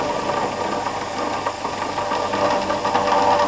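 A milling machine running at about 1500 RPM drives a 6mm cutter through metal, hand fed with WD lubricant, making a steady, loud, close mechanical drone with a rough rattling edge and no talk over it.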